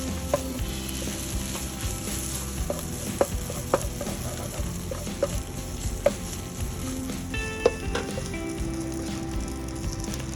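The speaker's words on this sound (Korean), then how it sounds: "양파가 누런해질 때까지 볶아주세요." Onions stir-fried in a pan for Japanese curry, cooked until golden: a steady, close sizzle runs throughout, broken by light scraping and clicking stir strokes, with no voices.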